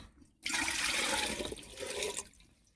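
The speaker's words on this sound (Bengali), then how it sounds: "দেখো বন্ধুরা, আমি জল দিয়ে দেবো" Water rushes steadily into a pot of rice being cooked for chicken biryani, a loud continuous splashing pour lasting about two seconds after a brief quiet start, then cutting off.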